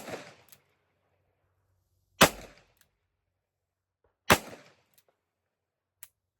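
Sharp shots from a cowboy revolver, likely a Ruger Vaquero .45 Long Colt, crack out one at a time with a few seconds between them and short echoes, followed by a fainter final pop.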